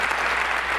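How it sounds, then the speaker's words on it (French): An indoor audience at an association's annual general meeting breaks into a brief, dense burst of steady clapping, loud and even throughout. "On peut vous applaudir pour ça."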